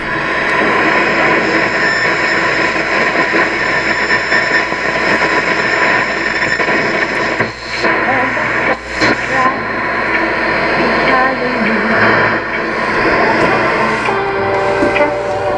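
A dense, steady wash of AM radio static and hiss at night from an Emerson stereo radio with one speaker, faint garbled broadcast audio buried underneath, briefly dipping twice before returning.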